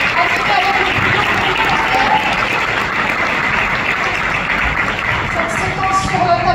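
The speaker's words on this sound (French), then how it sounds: "sous un tonnerre d'applaudissements, on va vous demander de faire venir Stéphane" Loud, sustained applause from an audience fills the whole stretch without a break, a dense wash of clapping with crowd noise underneath.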